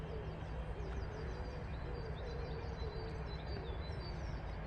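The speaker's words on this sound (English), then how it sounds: "chirping birdies in the background" Birds chirp in faint repeated high twitters across an early morning panorama near a freeway bridge, under a steady loud rumble of traffic noise.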